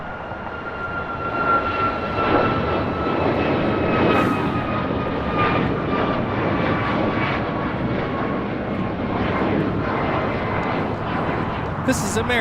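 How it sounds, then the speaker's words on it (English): An American Airlines Boeing 737 MAX 8 takes off from LAX for Miami with a sustained, fairly loud jet roar and a whining engine tone running throughout, while people talk over it. "2284 taking off to Miami on a MAX 8. An American MAX 8."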